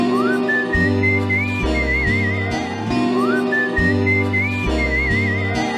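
Melodic human whistling over a song's instrumental interlude in a Korean ballad performance, a wavering tune carried loud and steady above a repeating bass and piano backing with no singing.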